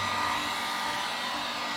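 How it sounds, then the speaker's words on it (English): A blow dryer drying an alcohol ink flower painting runs steadily, a loud continuous airy whoosh held close without interruption. "I got to use a blow dryer for this part"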